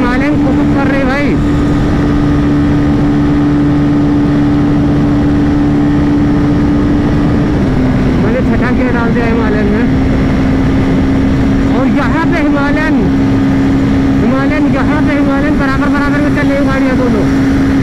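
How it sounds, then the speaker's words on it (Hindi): A KTM Duke 390 and a Royal Enfield Himalayan 450 racing side by side at high speed in sixth gear, heard as a loud, steady engine drone with rushing wind, with someone talking over it throughout. "152 जा रहा हूँ, 6वें गियर में लगा दिया। ड्यूक 390 निकल गई फिलहाल के लिए अभी आगे"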